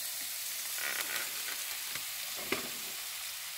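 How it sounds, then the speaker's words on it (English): Onions sautéing in butter and a little olive oil in a cast iron pan give a steady, fairly quiet sizzle, with a few soft scrapes and taps from stirring, especially one sharper knock near the end. "I'm going to saute these onions for just a little bit"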